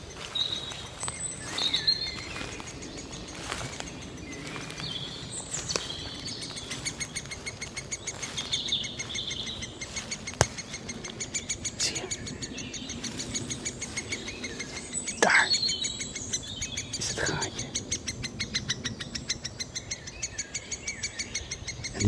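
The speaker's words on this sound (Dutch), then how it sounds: "jonge spechten horen in het nest" Young woodpeckers call repeatedly from a nest, high insistent chirps in rapid series over quiet outdoor ambience, with occasional louder bursts.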